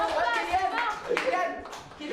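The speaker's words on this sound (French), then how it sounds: "On l'applaudit, on l'applaudit." A small group claps together at an indoor school event, a scattered run of applause mixed with chatter and a few chuckles.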